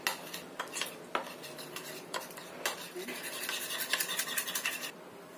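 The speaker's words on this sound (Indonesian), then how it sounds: "Ini kita aduk sampai rata." A spoon scrapes and clinks against a bowl as a tofu mixture with mushroom broth is stirred, giving soft, close, irregular scratches and taps that speed into a busier rhythm near the end.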